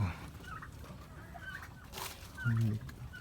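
Native hen sitting on eggs in a backyard farm, giving a few low, agitated clucks, including a louder burst near the end, with a person talking quietly in the background.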